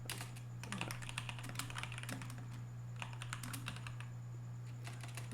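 Close, quiet typing on a computer keyboard, with bursts of rapid key clicks and short pauses over a steady low electrical hum.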